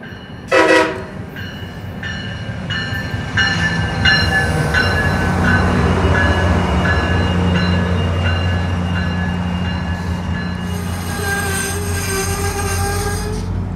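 A MARC commuter train, P891, passes at Germantown with a short loud horn blast followed by a steady heavy rumble of wheels and cars rolling by close, and high tonal squeals rising toward the end.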